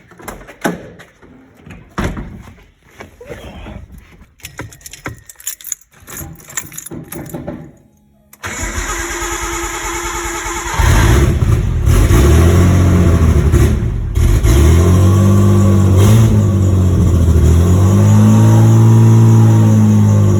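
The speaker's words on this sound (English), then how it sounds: "We've robbed the battery out of Sam's ute so we can start this fucking turd if it starts" A Nissan Skyline R33 engine cranks and fires after some clunking and handling noises, then idles roughly and revs hard several times, loud and close.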